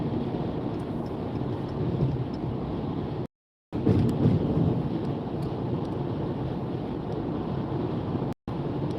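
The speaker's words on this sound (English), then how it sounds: "You sleep to thunderstorm sounds?" Steady heavy rain with low rolling thunder fills a thunderstorm soundscape, a constant dense wash broken by two brief dropouts of silence.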